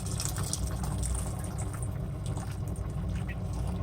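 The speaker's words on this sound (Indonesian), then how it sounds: "Tambahkan air." Water pours into a cooking pot, a steady gurgling fill of moderate loudness that continues throughout without a pause.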